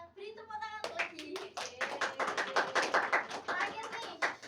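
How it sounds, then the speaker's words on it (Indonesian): Schoolchildren in a maths class clap together after a speaking voice, a burst of close, uneven handclaps with distinct individual slaps lasting a few seconds. "Kita beri tepuk tangan lagi"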